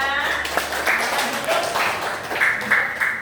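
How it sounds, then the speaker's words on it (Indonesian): A classroom of students claps for a group after its presentation in a school lesson, a loose scattering of hands close by with uneven bursts and some tapping, mixed with faint voices. "Beri tepuk tangan kepada kelompok 2."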